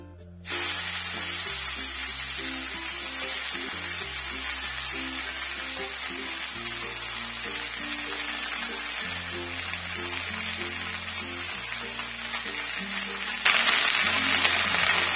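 Jute leaves dropped into hot oil with a dried red chilli and nigella seeds for a Bengali jute-leaf curry, giving a sudden loud, steady sizzling hiss that runs unbroken over soft background music.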